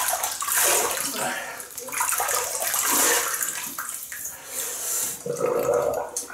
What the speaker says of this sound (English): So we'll wet the face and get on with it.